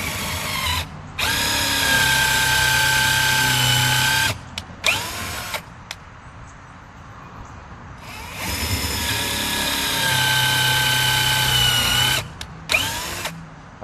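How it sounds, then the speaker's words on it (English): A power drill bores pocket holes into the wooden frame of a farm-style end table, two long loud whirring runs of about four seconds each, each followed by short bursts and a pause between them. "Then I can go ahead and start drilling my holes."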